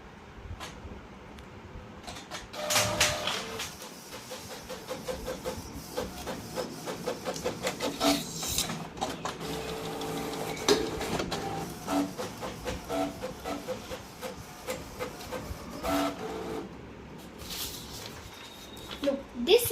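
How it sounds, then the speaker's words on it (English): A Canon G3780 printer running a black-and-white double-sided print job, its mechanism rattling and clacking steadily with repeated sharp transients and rolling feed noise throughout. "Now it is printing."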